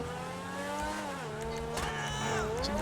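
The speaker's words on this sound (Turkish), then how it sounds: "Bir daha hızlandırıyorum." A car in the video game GTA 5 revs and accelerates, its engine pitch rising in steady harmonic sweeps, dipping and climbing again as it speeds up, loud and close throughout.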